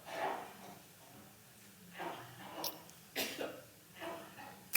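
Several people cough and clear their throats during a prayer gathering, with about five scattered, fairly faint bursts separated by quiet pauses, in a hushed room with no clear talk.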